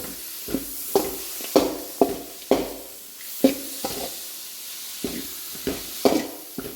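Coconut mustard tempering with jaggery being stirred in a pan: repeated rhythmic scrapes of a spoon against the pan, about a dozen strokes, over a soft steady sizzle, close and fairly loud.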